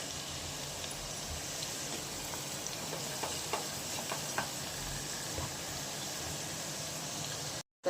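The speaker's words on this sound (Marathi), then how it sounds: "फ्राय करून घेणार लसणाला" Garlic frying in a pan for a drumstick handi curry, giving a steady, close crackling sizzle with scattered small pops, continuous throughout and cut off abruptly at the end.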